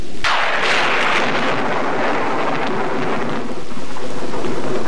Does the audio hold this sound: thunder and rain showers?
yes